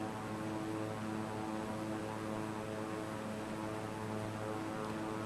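Airplane approaching a short runway in a flight simulator game: a steady, droning propeller engine hum holds evenly throughout with no other sounds.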